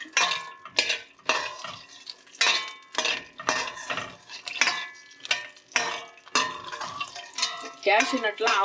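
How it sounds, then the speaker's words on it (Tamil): A spoon clatters and scrapes repeatedly against a pan as cashew nuts are stirred while frying in ghee for carrot halwa, cooked in a caravan; the metallic strokes come in a quick, irregular rhythm. "இதுல கேஷ் நட்டை போட்டு நெய்ல வறுத்து எடுத்துடலாங்க"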